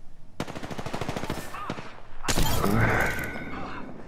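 Rapid automatic gunfire in the video game Apex Legends, a tight rhythmic string of shots followed by a heavier, louder burst of impacts and game noise that fades out.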